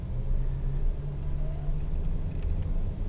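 First-generation Toyota Avanza pulling away again after slowing almost to a stop, its engine a steady low rumble and drone heard from inside the cabin, with no talk.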